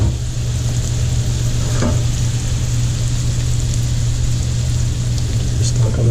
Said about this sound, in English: we're going to cook the onion down until it gets to be translucent.